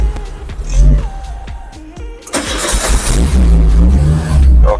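A 1988 Citroen AX GT engine, primed through the carburetor, cranks with uneven clanks and then catches midway into a loud, rough running roar close to the microphone.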